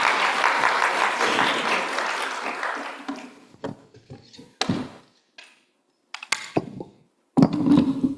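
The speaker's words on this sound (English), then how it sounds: "but you are allowed to clap" Audience applause fills a synagogue sanctuary, a dense burst of clapping that fades out over a few seconds, followed by scattered thumps, knocks and faint movement.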